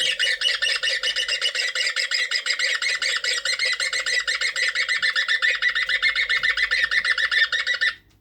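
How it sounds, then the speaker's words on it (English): A recorded woodpecker distress call: a continuous stream of harsh, rapid squawks and chattering calls, loud and close, repeating steadily for several seconds before cutting off. "Here's woodpecker in distress"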